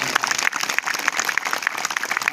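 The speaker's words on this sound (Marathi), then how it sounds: "आपण या 35 योग शिक्षकांसाठी एका जोरदार टाळ्या वाजवा।" An audience claps for newly qualified yoga teachers at a birthday celebration event, a short burst of dense, steady applause from a hall crowd with sharp individual claps standing out.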